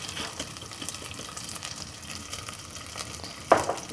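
Popcorn kernels sizzling in hot oil in a pot, a steady frying crackle with one brief louder clatter near the end, no voices.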